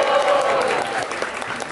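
Crowd at a rap battle cheering and applauding in a loud, dense burst of clapping and shouts that stays steady, with voices mixed in.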